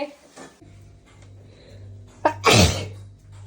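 A person gives one loud, close sneeze near the end, just after a short sharp intake of breath, in a home kitchen while tomatoes are cut for lunch, over a low steady hum.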